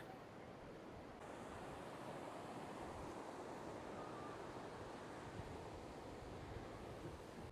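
Ocean waves roll steadily onto a drive-in beach in Kerala, a continuous broad wash of surf and wind noise, moderately faint and with no voices.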